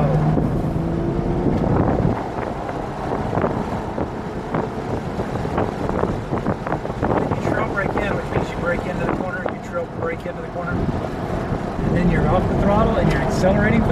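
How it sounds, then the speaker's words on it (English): Porsche Cayman accelerating on the VIR race track, a loud sustained engine drone with rising pitch mixed with heavy wind rush, and someone talking over it. "Accelerating for the next straightaway."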